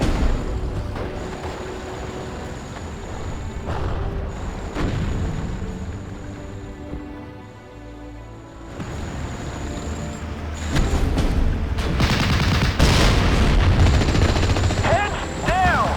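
Gunfire from the game Hearts of Iron Normandy 44, with dense bursts of shots and booms that swell louder toward the end, mixed with soldiers' shouted voices and battlefield noise.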